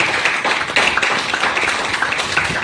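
A crowd at a Hindi motivational business seminar claps loudly and continuously, a thick close-up wash of hands with no voices over it.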